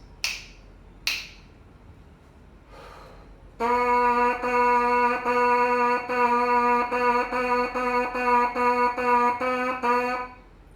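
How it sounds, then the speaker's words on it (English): Two sharp snaps, then a bright buzzing brass mouthpiece tone played alone in a steady rhythm of short repeated notes, close and fairly loud. "when you combine that with the mouthpiece buzzing"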